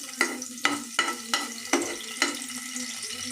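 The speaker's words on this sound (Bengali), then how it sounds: "তেলটা একটু গরম হওয়ার পরে আমি কয়েক কোয়া রসুন ছেড়ে দিচ্ছি তেলের মধ্যে" Garlic cloves frying in hot soybean oil give a steady close sizzle, broken by about five sharp scraping stirs at irregular intervals; no one speaks.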